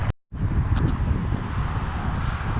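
Steady, roaring wind buffets the microphone on a kayak with heavy low rumble after a brief cut at the start, continuous and loud throughout.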